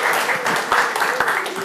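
An audience at a Clean Code talk applauds in a brief, dense burst of clapping that fills the room from start to finish.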